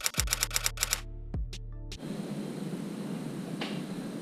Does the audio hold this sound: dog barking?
no